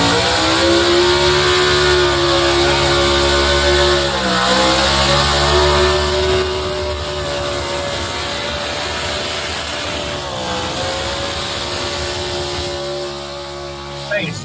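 A small block class race car engine screams at high revs, loud and sustained with pitch dips and climbs as it shifts through the run, close by and alone with no talk over it.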